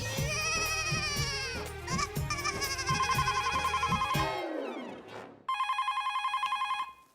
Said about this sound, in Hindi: जरूर सुंदर का फोन होगा